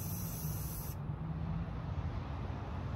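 Spray paint hisses steadily from a small can onto a pumpkin outdoors, one continuous close spray lasting a few seconds with no talk.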